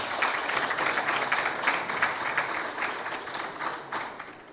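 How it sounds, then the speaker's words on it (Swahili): Sustained applause from an audience at a Simba club event announcing a record sponsorship deal, steady and dense clapping for several seconds before tapering slightly. "Makofi mengi sana."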